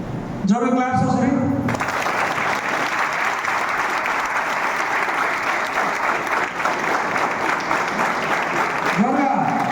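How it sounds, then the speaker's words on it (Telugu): A training-session audience claps loudly and continuously for about eight seconds, with a voice briefly before and after the applause. "జోరు క్లాప్స్ ఒకసారి."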